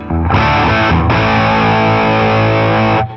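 Loud distorted electric guitar chords through a Bogner LaGrange overdrive pedal at medium gain and low presence, heavy and bass-rich, strummed twice and left ringing, with a muted, dark tone.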